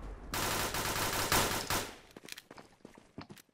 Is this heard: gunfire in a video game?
yes